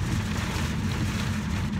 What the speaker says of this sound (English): It's raining outside now.